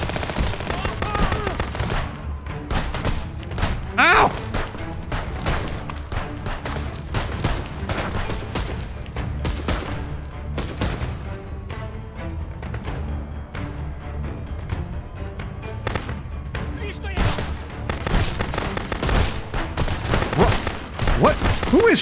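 Rapid automatic gunfire from the video game Communism Sucks: The Game rattles almost without pause in loud, dense bursts, with a player talking over the shooting.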